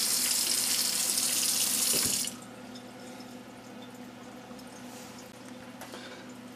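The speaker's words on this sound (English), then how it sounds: "Then taking a scrub pad, make sure you guys can see it. Just go over the product. Try to get any dirt, debris, anything of that sort off of our zucchini." Zucchini scrubbed with a scrub pad under a running kitchen tap; a loud, steady stream of water pours for about two seconds, then stops, leaving quieter rubbing and faint drips nearby.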